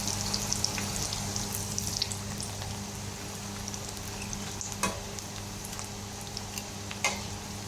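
Kangkong (water spinach) leaves frying in hot oil for crispy leaves, a continuous close sizzle and crackle with occasional sharper pops over a steady low hum.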